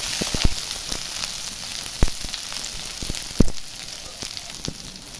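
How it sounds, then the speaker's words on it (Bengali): Jackfruit pieces frying in oil, a continuous close sizzle broken by occasional louder pops and spits, no talking. "কাঁঠালগুলো লাল লাল করে ভেজে নেব।"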